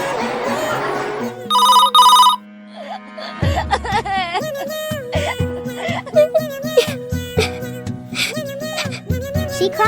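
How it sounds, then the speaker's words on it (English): A cartoon telephone rings in a short, bright burst, followed by soft whimpering, crying cartoon sounds over a playful musical backing. "Doctor called to inform Mommy Cat."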